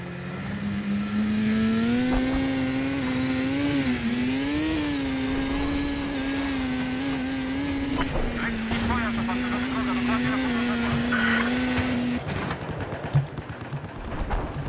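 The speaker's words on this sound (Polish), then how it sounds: "jest skuter. Chciałbym sobie podlecieć do C." In Battlefield 4, a snowmobile engine drones steadily and close, its pitch wavering up and down as it drives, before giving way to scattered clatter and sharp bangs near the end.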